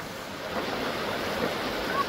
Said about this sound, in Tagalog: Yun, yan ang mga maliliit na falls.